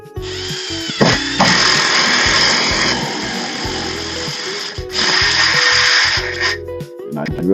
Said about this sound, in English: And then I'm going to drill it.